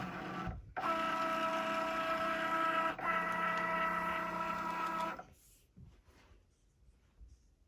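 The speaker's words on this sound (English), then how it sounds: "we are going to walk over to the Cricut Joy and load our mat into the machine" A Cricut Joy cutting machine loads a mat with a steady mechanical whir that holds for about five seconds, briefly dips, then stops abruptly, leaving quiet room sounds.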